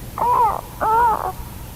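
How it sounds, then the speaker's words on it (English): Bird call sound effects played over a 1975 Boston AM radio broadcast, two loud, harsh, crow-like calls in quick succession, each about half a second long. "And the birds go."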